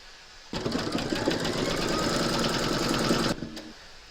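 An embroidery machine stitches a quilted crazy patch notebook cover in its hoop, securing the edge with a fast, even mechanical whir that starts abruptly, runs about three seconds, then stops, followed by a faint click.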